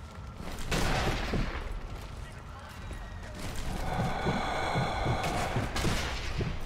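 Sniper fire in Zombie Army Trilogy, scattered gunshots cracking at a distance through a busy battle soundscape, with voices chattering over the fighting.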